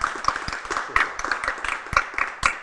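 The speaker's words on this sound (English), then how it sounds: "perhaps the people in the barn here could give Carolina a clap" A small audience gathered in a barn claps, a scattered, modest round of applause with uneven hand claps close by that holds throughout the short stretch.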